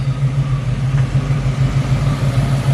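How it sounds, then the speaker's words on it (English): A 1968 Ford Mustang Coupe idles steadily, its engine giving a loud, even low rumble with a regular throb and no voices. "So you can hear she runs and drives, you know, she runs very well. Nice idle."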